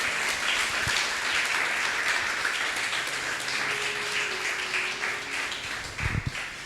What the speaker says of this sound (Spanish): Si usted lo cree, denle un fuerte aplauso a Dios.